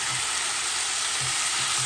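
Ground beef for sloppy joes sizzles steadily in a hot pan as it is broken up into crumbles, with a constant bright hiss and a few soft low scraping thumps from stirring, no voices.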